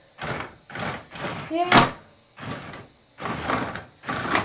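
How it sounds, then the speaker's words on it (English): Sliding doors in a Capza base video game swish open and closed repeatedly in a steady rhythm of short whooshing bursts, with one brief spoken word among them. "both doors do slide open and close"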